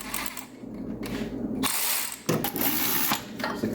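Ratchet wrench turning 10mm bolts on a 2004 Acura TL engine, fast continuous clicking close up in two long runs separated by a short pause, with no talking.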